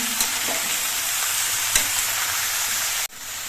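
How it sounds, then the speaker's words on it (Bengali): Steady close sizzle of vegetables frying in oil in a small wok, with a few sharp scrapes and knocks of stirring, then the frying briefly cuts out and resumes more quietly near the end. "সবজিগুলো আস্তে আস্তে নেড়ে দিয়ে আমি তেলের সঙ্গে সব সবজিগুলো মিশিয়ে নিয়েছি"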